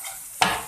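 Garlic frying in a pan gives a soft hiss, broken by one brief scrape or clink of a utensil against the pan partway through.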